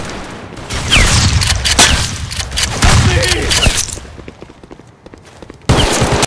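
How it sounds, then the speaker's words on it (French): Gunfire rings out in the Vietnam War video game Unit 1956, where a pump shotgun is in use: loud, close blasts and crackling volleys come in bursts over about six seconds, with a short lull before a final burst. "donc là j'ai pris un fusil à pompe"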